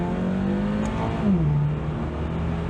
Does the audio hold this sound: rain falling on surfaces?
no